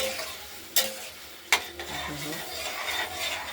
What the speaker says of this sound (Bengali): কষিয়ে নেব